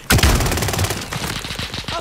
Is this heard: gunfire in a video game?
yes